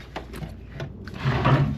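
Cabin drawers on a Carnival Firenze cruise ship sliding open and shut, a few quick wooden knocks and scrapes followed by a longer rumbling slide, close and fairly loud.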